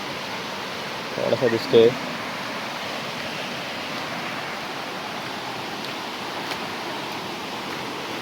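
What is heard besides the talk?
waterfall in the hills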